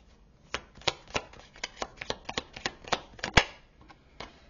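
A deck of tarot cards is shuffled close up, giving a quick run of sharp riffling snaps and soft flutters at an irregular pace, with no voice.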